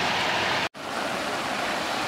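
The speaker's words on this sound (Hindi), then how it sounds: "ये पानी का झरना है" Steady rushing water of a waterfall close by in Nishat Bagh garden, Srinagar, Kashmir, a continuous broadband roar with a brief dropout near the start.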